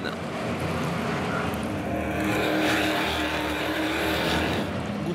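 NASCAR Whelen Euro Series race cars battle on the Tours Speedway in 2013, their engines making a constant, dense roar that swells slightly as the pack passes, with no clear voices over it.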